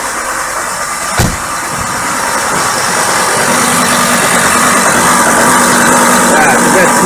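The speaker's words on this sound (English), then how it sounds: "Welcome to starting a diesel 5-cylinder negative" A 5-cylinder Mercedes-Benz diesel engine cold-starts at -33 degrees in a tarped-off area outdoors: a brief cranking burst, then a loud, steady, rough idle that grows slightly fuller and holds to the end.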